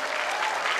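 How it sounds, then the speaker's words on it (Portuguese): A brief burst of dense audience applause after a children's nursery-class Festa Junina performance, steady clapping from a crowd. "Mais palmas, gente."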